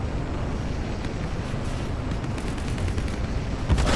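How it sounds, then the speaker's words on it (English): Muffled gunshots pop repeatedly over a constant low rumble of game noise in the video game Star Citizen, with a few sharper cracks near the end. "You guys hear those gunshots?"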